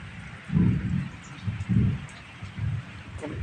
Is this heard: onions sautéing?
no